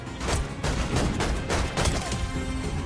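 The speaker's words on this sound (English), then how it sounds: "They've crushed it with the sounds this season." Rifle fire in the Fortnite video game comes as a rapid string of sharp, punchy shots in quick bursts, loud and close, with no talking.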